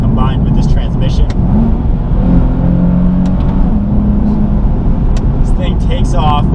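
A 2014 Nissan 370Z's naturally aspirated engine pulls hard under acceleration, a steady loud drone with rising harmonics heard from inside the cabin, with someone talking over it throughout.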